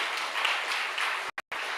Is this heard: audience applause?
yes